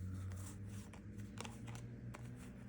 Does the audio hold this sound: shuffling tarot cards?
yes